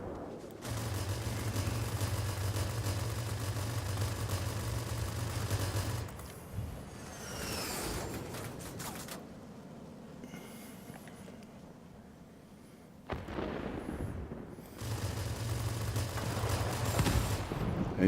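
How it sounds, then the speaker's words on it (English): An F-84 fires its machine guns in a flight combat game, long steady bursts of rapid droning fire at the start and end with engine roar and quieter passages between. "you really can shoot down an 1102 with machine guns"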